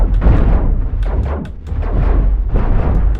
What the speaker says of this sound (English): Keep firing, laser!